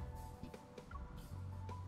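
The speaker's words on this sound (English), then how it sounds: "The white dove in my palm seems to understand us. It lifts its head to coo at me." A white dove cooing in the video game Love and Deepspace: a few short, soft throaty bird calls over a quiet sustained musical backdrop.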